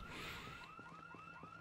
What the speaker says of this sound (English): we have another house alarm to deal with.